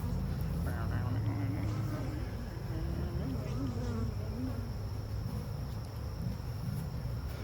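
Honeybees swarm and buzz around an open hive during a mid-June spring inspection, a dense, continuous droning hum that stays close and loud throughout.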